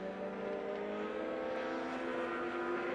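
Legends race cars roar down the backstretch at Monett Motor Speedway, a dense, steady engine drone holding at near-constant loudness, with no voices over it.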